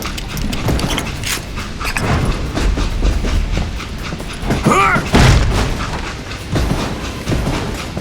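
A train rolls along with rhythmic clickety-clack and rumbling wagon noise in the Call of Juarez Gunslinger video game, loud and continuous, with metallic squeals and clanks rising midway.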